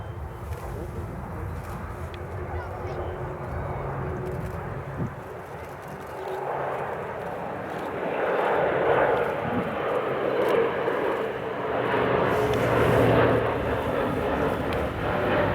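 Airbus A400M military transport aircraft flying at an air show, a steady broad engine roar that swells louder in the second half as it passes, with faint voices in the background.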